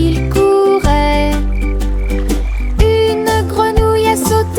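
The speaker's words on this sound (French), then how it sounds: "Une grenouille a sauté et a fait signe de la main." A cartoon frog croaks in a French children's nursery song, repeated croaks layered over a bright, steady musical backing with no talking.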